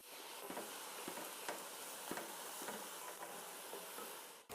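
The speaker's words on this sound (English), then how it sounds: "We need to let that fry for about 3 or 4 minutes now, until the onions are a bit sautéed" Onions frying in a pan for a beef stew give a steady, even sizzle with a few faint stir clicks, continuous and close, with no talking.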